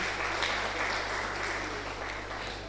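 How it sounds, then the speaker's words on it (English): Applause from an audience in a university auditorium at a postgraduate lecture series, a continuous even wash of clapping held throughout, with a low steady hum beneath. "Please a round of applause for her."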